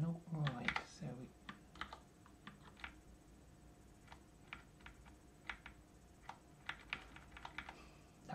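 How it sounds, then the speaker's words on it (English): Keystrokes on a computer keyboard entering a Visual Studio shortcut while coding, a few quick irregular clicks following a brief burst of speech, then more sparse taps and clusters of keys, faint and close. "that was a Visual Studio keyboard shortcut"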